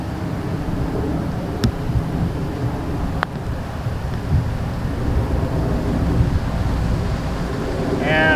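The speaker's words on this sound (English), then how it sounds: "The wind." Wind gusting across a golf course, a steady broad roar and rumble buffeting the microphone throughout, with a faint brief sound near the end.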